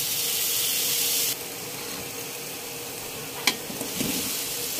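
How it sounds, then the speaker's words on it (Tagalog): Shrimp bubbling in coconut milk in a pan give a steady soft sizzle, with a couple of light utensil clicks from stirring partway through. "Next po ay yung hipon. Haluin na natin ang konti"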